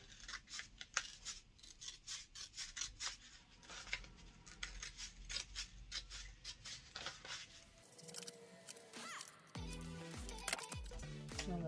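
Scissors snip through transfer tape at a small-business craft bench making acrylic keychains, a quick series of close, crisp cuts followed by a rustling sheet near the end.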